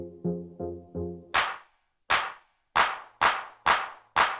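Clap samples on an Akai MPC One ring out as six sharp, bright hits after a few short pitched tones, spaced irregularly and heard alone without talk.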